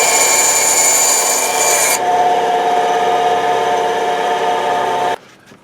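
Pieces of an Ark of the Covenant model are trimmed right at the spine, giving a loud, steady, close rasping drone with a tonal whine that shifts partway through and cuts off abruptly near the end.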